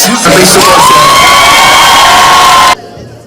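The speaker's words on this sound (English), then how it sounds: "Nigerians came to cheer Chef Hilda at every juncture of her feat" A crowd of Nigerian supporters cheers and whoops loudly for a chef during a cooking world record attempt, a dense burst of shouting that cuts off abruptly near the end.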